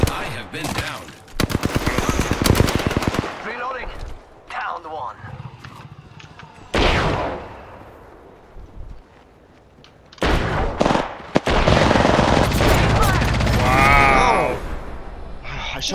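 Bursts of gunfire in a shooter game, with rapid automatic volleys and single shots in separate clusters, loud and close, while a player talks at intervals.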